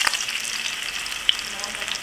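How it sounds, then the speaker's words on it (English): Shrimp sizzle steadily in hot oil in a pot for Trinidad curry shrimp, a dense continuous crackle with one sharper pop partway through and no voices. "While we're frying the last batch of shrimp"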